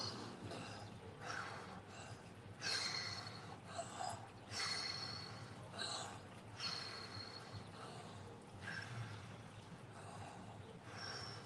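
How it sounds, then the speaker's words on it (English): Deep belly breathing exercise, with slow, audible breaths drawn in, held and released in a repeating rhythm, close and fairly quiet with no talking. "this is basically some belly breathing"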